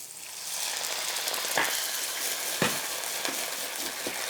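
Rice wine vinegar hits a hot pan of gyoza dumplings and hisses in a loud, steady sizzle and bubble, with a couple of clear knocks of the pan or utensil partway through.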